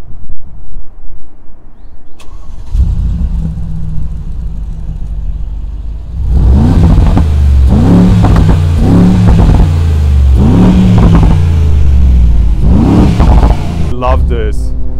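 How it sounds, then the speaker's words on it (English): A Brabus G800 G-Class revs loudly from outside the vehicle: a low idle with faint voices nearby, then from about six seconds a series of sharp throttle blips that rise and fall in steady pulses, close and powerful. "it's time for another sound check with the Brabus G800 now from the outside"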